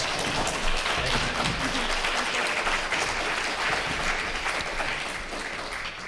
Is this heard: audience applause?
yes